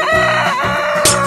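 A chicken clucks and squawks in a quick burst of several calls, close and loud with a sharp cry near the end, the sound effect in an animal guessing escape room challenge.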